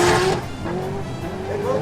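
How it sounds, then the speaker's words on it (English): A drift car at a Lone Star Drift competition spins its tires down the line, a loud, near tire squeal and engine roar heard over a commentator's voice. "Rudy Martinez spinning the tires all the way down the line"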